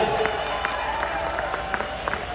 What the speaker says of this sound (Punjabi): ਥੋੜੀ ਜਿਹੀ ਤਾੜੀਆਂ ਜੀ ਜੱਜਾਂ ਦੀ ਵੀ ਹੌਸਲਾ ਉੱਤੇ ਚਾਹੀਦੀ ਆ